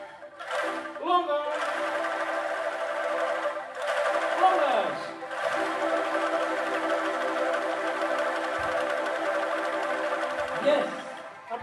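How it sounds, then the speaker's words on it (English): Angklung ensemble of audience players shakes out a pattern of three short, three longer and one longest note, rattling bamboo tones sustained and fairly loud with brief breaks, a voice calling cues near the start. "we'll play three short, three longer, and one longest"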